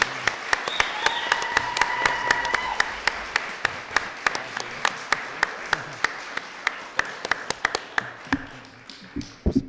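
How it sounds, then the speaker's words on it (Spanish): A room of people at a book presentation applauds, steady clapping at moderate volume with a few sharp claps standing out, gradually thinning toward the end. "pido un aplauso para José Luis, para Alfredo"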